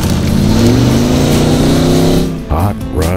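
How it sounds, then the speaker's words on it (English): Hot rod V8 engines revving loudly on the flat beach sands of Devon during a beach race, a continuous rising roar with a brief dip near the end, under voices talking. "Engines fire up."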